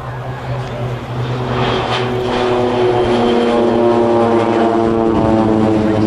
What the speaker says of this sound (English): Three aircraft, they get airborne